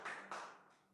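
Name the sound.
congregation clapping to welcome Melisa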